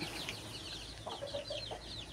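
Soft, low clucking from a black hen amid other chicken chatter near the nests, faint and somewhat distant over a constant background hum.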